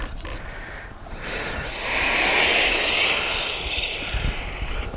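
An Arrows RC BAE Hawk jet model with a 50mm electric ducted fan on a 4S battery, its high whining fan rising to a loud pass and fading as it flies by, with no talk.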